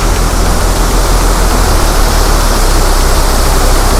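Savatkada waterfall in the Konkan, a loud dense roar of gushing water that fills everything evenly and without pause from start to end, close by and with no voices.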